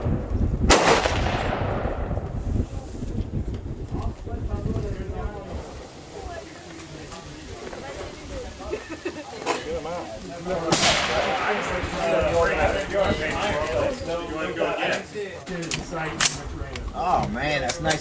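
Rifle shots ring out at an outdoor shooting range at a freedom festival, a few sharp loud cracks with echoing decay spread across the stretch amid crowd noise and people talking nearby.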